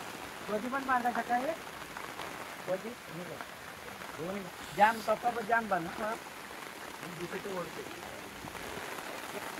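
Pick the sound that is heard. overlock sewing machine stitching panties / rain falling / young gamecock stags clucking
rain falling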